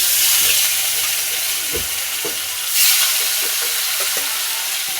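Fish fries in hot oil with a continuous loud sizzle and hiss, broken by a few soft clinks and stirring knocks and one brief surge of spitting near the middle.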